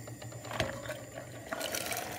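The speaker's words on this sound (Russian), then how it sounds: "Мы немножко отсюда отливаем в другую кастрюлю." Water is poured from one pot into another while making a cranberry drink. It comes as a continuous close splashing trickle with a few clinks from the pot, and nobody talks.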